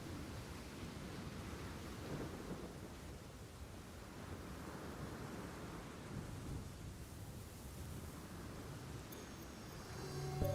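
A thunderstorm rolling in within Assassin's Creed Shadows, steady rain and a low wash of rumbling thunder that stays even and moderately loud throughout, with no voices.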